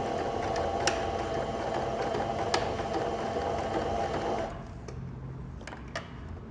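A domestic sewing machine stitches close to the edge of a fabric hem in a steady, fairly loud mechanical whir, stopping after about four seconds and leaving a few faint clicks and handling noises.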